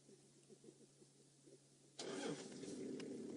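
A car engine on a morning safari game drive cranks and catches with a sudden loud start, then settles into a steady, close rumbling idle after a quiet, low hum.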